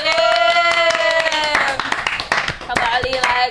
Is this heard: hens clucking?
no